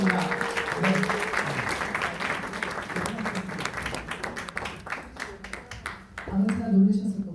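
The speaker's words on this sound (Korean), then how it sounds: "우리 박수로 맞이해 주시기 바랍니다" Applause from an audience at a book launch celebration runs throughout, with steady dense clapping under a voice speaking over the room.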